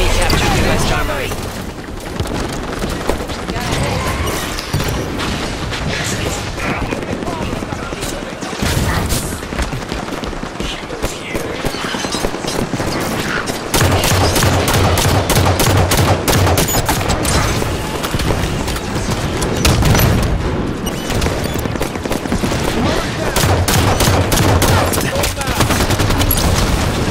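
Gunfire in the first-person shooter Halo 5 Warzone: dense, rapid bursts of automatic weapon fire and booms run throughout, close and loud, with voices calling out over the fighting.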